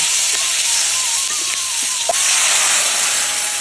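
Green chillies frying in hot oil in a wok give a steady, loud, close hiss and sizzle with a few faint clinks, no voices.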